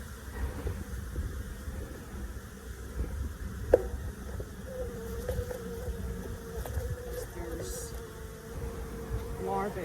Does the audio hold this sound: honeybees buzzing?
yes